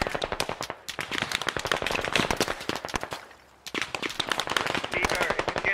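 A machine gun in the tactical shooter game Squad fires long rapid bursts of sharp, loud shots, pausing briefly before a fresh stream of fire.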